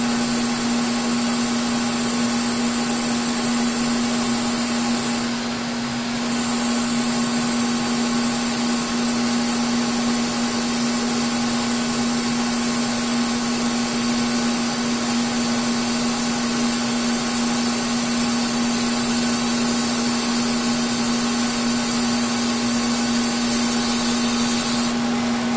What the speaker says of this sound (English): I get a little tiny bit of air, just to give you a little flow here so it kind of blows it away